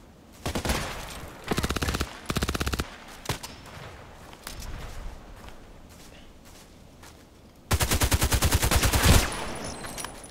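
Gunfire from an HK 417D assault rifle in a shooter game comes in several loud, sharp bursts of rapid shots separated by quieter gaps, ending in a longer sustained volley.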